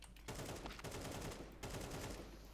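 Dense, continuous gunfire in a competitive team shooter video game, bursts of rapid shots rolling almost without pause across the clip, loud and close with no voices over it.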